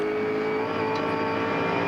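A touring race car engine drones in fifth gear at Barbagallo Raceway during a 2000 Shell Championship race. The engine note stays loud, steady and close for the whole stretch.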